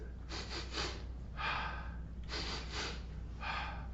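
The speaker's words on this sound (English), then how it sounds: "then you do the bunny breath" Quick sniffing breaths come in short bursts of two or three rapid inhales, repeated four times with brief pauses, close and soft in a quiet room, a person's breathing exercise for children.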